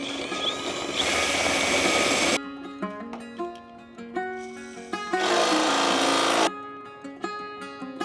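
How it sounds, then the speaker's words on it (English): A drill bores a hole through square steel tube for a Suzuki Samurai flat tow setup, running in two loud grinding bursts separated by quieter tonal ringing and intermittent metallic taps. "to drill a hole in the square tube to put my bolts through"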